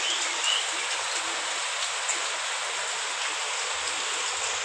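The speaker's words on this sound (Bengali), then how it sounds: "কন্টিনিউ বৃষ্টি হচ্ছে, কন্টিনিউয়াসলি বৃষ্টি হচ্ছে।" Steady rain falls continuously, a dense, even hiss of drops pouring down without pause, close by and fairly loud throughout.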